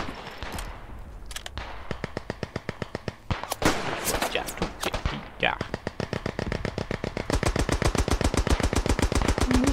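Automatic weapons fire in the World War I shooter game Beyond The Wire, sounding as loud, rapid bursts of gunshots with short pauses, then a long sustained stream of shots near the end, while someone talks over the gunfire.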